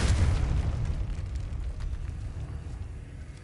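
A Confringo blasting spell explodes in Hogwarts Legacy, a heavy booming blast that hits at once and then rumbles and decays slowly, loud and close with no talk.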